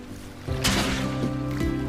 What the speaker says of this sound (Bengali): ঠান্ডা পানিতে ডুব দিয়ে মনটা একদম ফুরফুরে হয়ে গেল